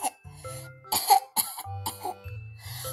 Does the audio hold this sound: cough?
yes